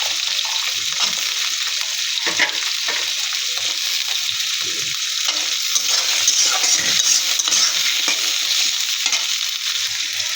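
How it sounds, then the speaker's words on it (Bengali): Potatoes frying together with shrimp in a pan, a steady close sizzle with a watery hiss and occasional stirring scrapes running continuously and loud throughout, no voices. "চিংড়ি মাছের সাথে আমি আলু ভেজে নেব।"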